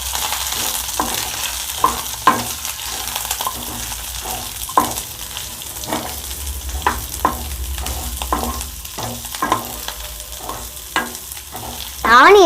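Two sliced onions frying in a pan for chilli idly, a continuous close sizzle with frequent scraping stirs at an uneven pace, no voices.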